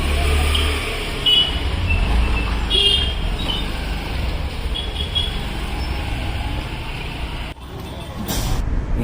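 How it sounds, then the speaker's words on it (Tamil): A large vehicle arrives outside a wedding hall in S.P. Pattinam, its engine rumbling steadily and close, with a brief horn toot and a hiss of air brakes near the end. "உஜூப் ட்ராவல்ஸ் வண்டி வந்திருக்கு"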